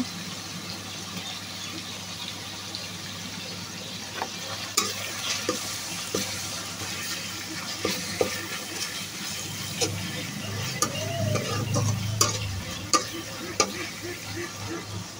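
Onion and garlic paste frying in a pan for a chicken curry gives a soft continuous sizzle, with intermittent sharp taps and scrapes as it is stirred, and a brief gurgling bubble partway through.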